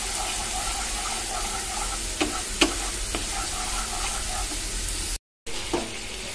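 Masala with Kashmiri chili powder and slit green chilies frying in a pan, a constant close sizzle with a few spoon scrapes and a brief dropout near the end, no talk.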